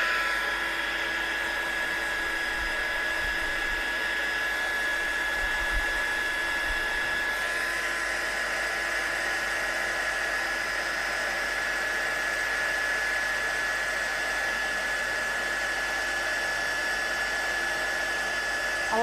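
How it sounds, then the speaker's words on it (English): A heat gun blows steadily for a long stretch while heat-setting a craft project, a constant airy whoosh with a high whine that shifts partway through, loud and close with no talk over it. "Right, let's heat set this one."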